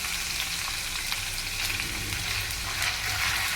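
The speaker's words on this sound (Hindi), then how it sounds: "इसको प्याज को आपने हल्का सा गोल्डन ब्राउन कर लेना है।" Finely chopped onion fries in hot oil for a goat liver dish, giving a steady, dense crackling sizzle throughout, close up and moderately loud, with faint stirring.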